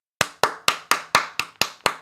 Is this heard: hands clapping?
yes